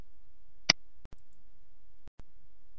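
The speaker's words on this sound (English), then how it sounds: "click the insert button." A single sharp computer mouse click, close and crisp, followed by a few faint ticks against quiet background hiss.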